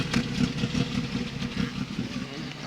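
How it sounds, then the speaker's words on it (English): A Volkswagen Golf or Polo engine with an over-fuelling fault, MAP sensor plugged in, idles steadily with a low, even rumble and slight pulsing throughout, no voices. "It sounds like it's idling right now with the map sensor plugged in."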